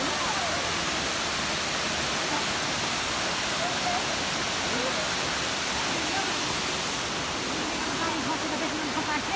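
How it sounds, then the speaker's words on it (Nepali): Purandhara waterfall: a constant, full roar of falling water holds at an even level for the whole stretch, close and loud, with no pauses or distinct splashes. "झरना"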